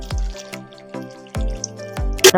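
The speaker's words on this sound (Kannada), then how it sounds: "ನೀರು ಹಾಕ್ಕೊಳ್ತಾ ಇದ್ದೀನಿ" Water is added to a bowl of potatoes, heard as a few separate splashy drops and gulps spaced out over a couple of seconds, close and clear, with a brighter splash at the end.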